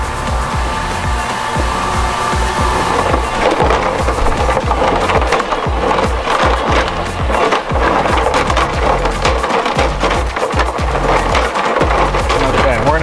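A Bunn Ultra-2 slush machine churns ice with its auger, giving a loud grinding, crackling whir with irregular scraping bursts throughout, close and continuous.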